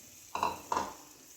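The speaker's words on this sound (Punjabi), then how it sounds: "ਉਬਾਲ ਆਣ ਤੱਕ ਲਗਾਤਾਰ ਸਪੈਚਲਾ ਰੰਦੇ ਰਹਿਣਾ ਜੀ" Two quick scrapes of a spatula against a pan as raw turmeric curry is stirred, close and distinct, each lasting a fraction of a second over a quiet background.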